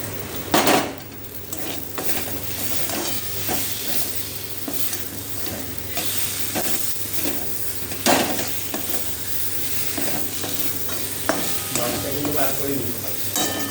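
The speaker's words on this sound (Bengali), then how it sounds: "এবার এর মধ্যে আমি আলুটা দিয়ে একটু কষিয়ে নেব।" Potatoes being sautéed in spice masala in a pan, with steady sizzling and frying under repeated scraping and stirring clatter from a utensil, some clanks louder than others, continuous and close.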